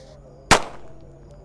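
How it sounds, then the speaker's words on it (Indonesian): A bird egg firecracker goes off once at night during Ramadan, a sharp close bang followed by a short fading tail over a faint background hum. "Lanjut di sini ada mercon telur burung guys, yang kita nyalakan selanjutnya."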